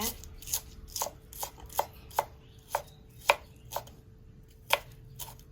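A knife chops on a board in a loose, irregular rhythm, a dozen or so crisp close taps against a quiet background.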